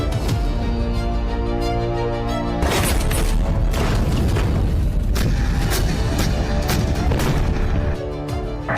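Heavy booming artillery blasts and dense crashing bursts, loud and sustained, thundering one after another with a constant rumbling din underneath.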